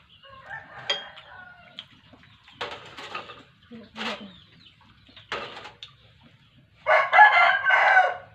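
A rooster crows several times in a rural Thai-Lao setting, the calls broken by short gaps and growing louder toward a final long, near crow, with faint clucking between.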